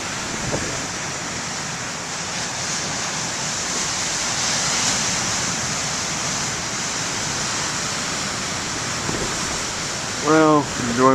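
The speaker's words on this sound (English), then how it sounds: "enjoy whatever waves I can get here" Surf breaking at the main lighthouse beach at BTL makes a steady washing rush with the waves fairly close, and a brief tonal sound comes in near the end.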